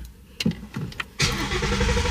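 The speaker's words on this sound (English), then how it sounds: "I'm gonna go ahead and crank my car a few times" A 2015 Ford Mustang GT cranks and fires up, a few short clicks and starter whirs giving way to a loud, steady engine roar heard up close.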